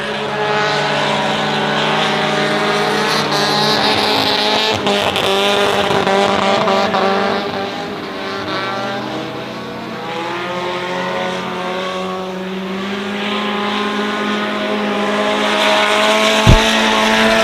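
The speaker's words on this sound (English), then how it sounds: "They're kind of spitting and sputtering as you hear them going down the front straightaway." Hobby stock and stock cars roar down the front straightaway at a speedway, one engine spitting and sputtering from a fuel issue; loud, continuous engine drone with shifting pitch and a sharp pop near the end.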